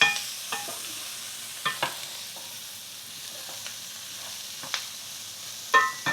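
Conch and octopus being stirred with garlic in a pan, giving a soft background sizzle broken by sporadic scraping clicks of the utensil against the pan.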